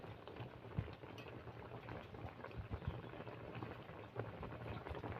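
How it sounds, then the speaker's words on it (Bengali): Tomatoes simmer under a lid in a covered pan, a faint, steady low bubbling and patter with occasional slightly louder pops, quiet and unbroken by any voice. "টমেটোটা অনেকটাই সেদ্ধ হয়ে গেছে, আর একটু সেদ্ধ করে নেব।"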